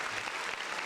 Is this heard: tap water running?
no